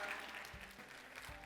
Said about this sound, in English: How about a round of applause for Vanessa Xu and Vanessa's avatar?